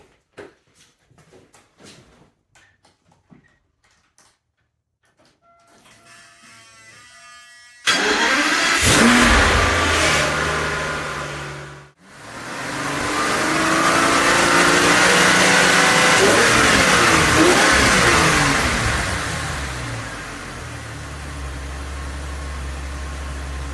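An Aston Martin engine cranks and fires after quiet workshop sounds, then settles into a loud, steady idle that briefly dips before the running note swells back and holds, heard close up with no talk.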